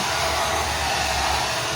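A hair dryer blowing continuously at close range while drying a dog, a steady loud rushing whoosh with a low motor hum underneath.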